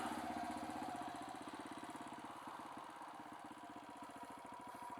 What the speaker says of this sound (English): So it's idling at about 1500 RPM.